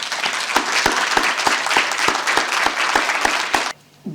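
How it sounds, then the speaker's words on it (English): Loud, sustained applause from a conference audience at an International Women's Day event, steady dense clapping for several seconds before cutting off abruptly. "can we just have a massive round of applause for our speakers, please?"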